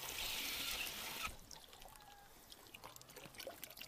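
Water is poured into a container for ducks as a steady splashing stream for just over a second, then tapers into faint trickles and drips, quiet and close.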